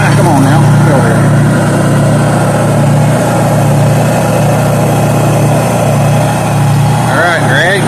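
A Honda generator runs steadily and loud, powering an old grinder, with a constant engine drone and whining tones throughout while a person talks over it.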